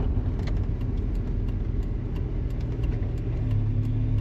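A turbocharged 1997 Mazda Miata accelerates on the road, its engine giving a steady, loud low rumble heard from inside the car, with no talk over it.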